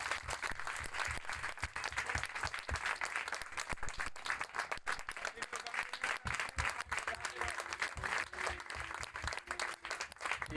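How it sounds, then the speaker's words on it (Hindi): Guests at a Christian wedding service applauding together, a dense steady patter of many hands clapping, moderately loud and sustained throughout. "हमें सब पे ताली बजाए दो।"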